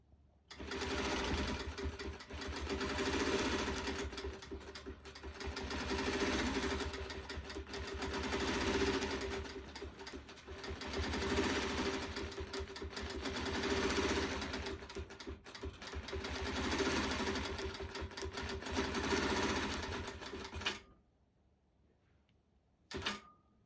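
A Perfect Stitch sewing machine stitches around appliques in long steady bursts of rapid mechanical whirring that rise and fall in loudness with short pauses between them. It is close and alone and stops abruptly near the end.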